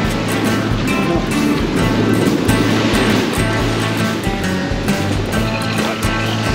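Ocean surf breaks on a northeast Florida beach during surf fishing, a continuous rushing wash of waves rising and falling, close and fairly loud, with no one speaking.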